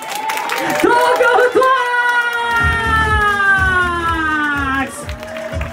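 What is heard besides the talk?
audience applause voting for a dance team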